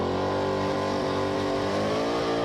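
A loud, steady drag racing engine roar at high revs, continuous and close, with a throaty, rumbling tone and no voices, at the Red CentreNATS event.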